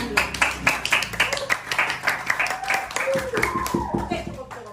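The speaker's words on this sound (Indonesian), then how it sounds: "Tepuk tangan dulu." A few people in a podcast studio clap together, a loud, close burst of rapid clapping that continues for several seconds while voices talk and laugh over it.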